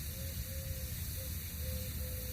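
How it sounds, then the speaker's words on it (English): A garden sprayer hisses steadily as plants are sprayed outdoors, a continuous broad airy spray with no pauses. "That's what the shh noise is."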